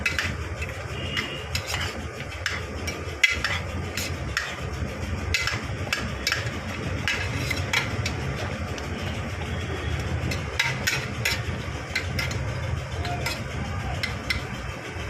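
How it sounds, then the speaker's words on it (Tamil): Chicken gravy mixed with ground masala powder is stirred in a pot, a steady scraping with frequent sharp ladle taps against the vessel, close and moderately loud, with no talk. "நல்லா கிளறி விட்டுக்குவோம்."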